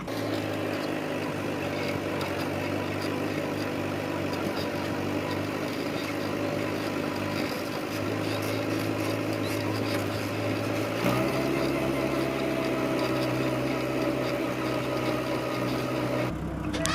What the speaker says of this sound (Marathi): आम्ही ट्रॅक्टरची स्पीड वाढवली टाकला पाच गेअर स्पीड वाढवली